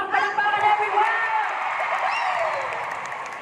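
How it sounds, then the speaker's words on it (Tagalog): An audience claps and cheers at a lively gathering, with a dense burst of applause under an ongoing voice and a bright whoop rising near the middle. "Palakpakan everyone!"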